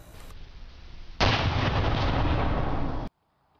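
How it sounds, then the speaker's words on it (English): A single loud cannon blast booms close by, followed by a rumbling, roaring tail of echo for about two seconds before it cuts off. "we set off a cannon"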